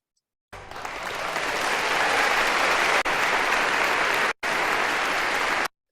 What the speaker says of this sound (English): So let us welcome her with a round of applause.